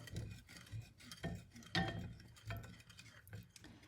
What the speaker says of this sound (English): We're just gonna whisk that up, and you wanna bring that to a boil